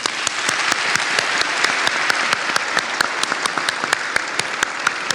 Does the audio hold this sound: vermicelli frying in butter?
no